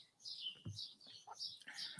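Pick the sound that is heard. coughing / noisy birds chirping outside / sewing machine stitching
noisy birds chirping outside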